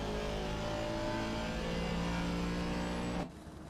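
Race car engines, including a Lamborghini, drone and rev at Snetterton in Assetto Corsa Competizione, a sustained tonal whine that holds steady then cuts off abruptly near the end.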